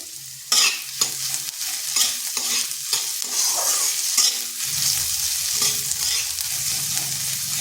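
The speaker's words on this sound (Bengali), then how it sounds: "হালকা একটু ভেজে নিচ্ছি" Grated garlic and ginger fry in a pan, crackling steadily while a spatula stirs and scrapes at irregular intervals, close and fairly loud, with no talking.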